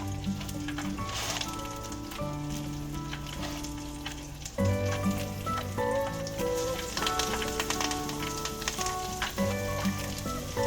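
Parmesan-breaded chicken cutlets fry in a full skillet with a steady crackling sizzle throughout, under a layer of sustained tonal background music.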